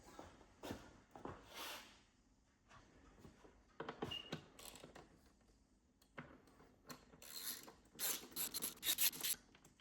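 A ratchet works on 7mm bolts on a BMW E46 318d during starter motor removal, close quiet bursts of rasping clicks in irregular spurts with scraping and tool handling between them.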